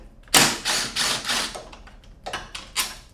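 A hand ratchet clicks in short, rapid bursts while backing out the front carrier bolts on an Audi B5 S4 during an engine pull, with several quick ratcheting strokes, a brief pause, then a few more, close and fairly quiet.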